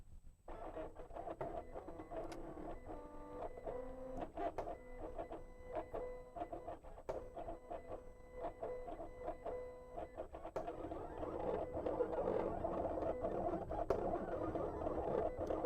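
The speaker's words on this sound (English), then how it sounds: "Now, Kayla, that Cameo sounds like a dubstep song." A Silhouette Cameo cutting machine slices heat transfer vinyl with a quiet, wobbling electronic whir and stuttering motor pulses that shift pitch in rhythmic patterns. The sound is steady and fairly faint, growing slightly busier toward the end, with no voices.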